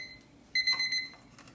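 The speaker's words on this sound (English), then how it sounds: "timer's about to go off" Kitchen timer alarm going off with bright, steady electronic beeping in a short burst, loud and close, then fading to a couple of fainter beeps in a quiet kitchen.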